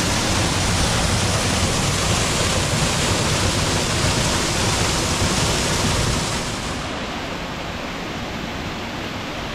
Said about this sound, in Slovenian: Tukaj je slap Bojanca.